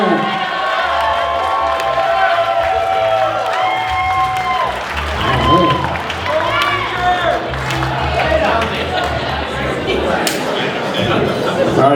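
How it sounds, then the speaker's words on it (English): Wedding reception guests applaud and cheer loudly, with whoops, whistles and chatter over a continuous burst of clapping as a man is welcomed up. "Let's give him a round of applause as well. Let's get some noise out for him."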